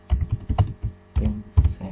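Keys on a computer keyboard are typed in short, irregular bursts of close clicks and taps, heard alone over about two seconds.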